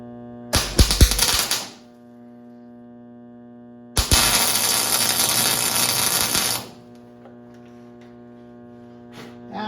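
Arc welding on an old painted metal railing, with paint burning off: two loud crackling, buzzing bursts, a short one and a longer steady one, each stopping abruptly over a constant electrical hum.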